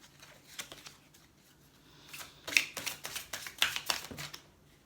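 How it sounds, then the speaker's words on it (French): Angel oracle cards are shuffled by hand in quick papery bursts, the riffles growing louder and denser in the second half, close and with no talking. "Je tire une petite carte de l'oracle des anges."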